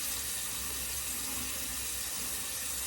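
A tap runs steadily while water is added to shaving cream, a constant, even hiss of flowing water with no pauses, fairly quiet and close.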